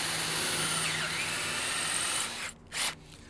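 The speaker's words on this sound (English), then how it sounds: "We're just going to drill down into this block of wood right here." A drill press whines at a steady high pitch, biting into a block of wood to cut a wood plug for over two seconds before stopping, then a short burst of drilling follows.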